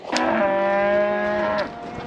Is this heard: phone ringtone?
no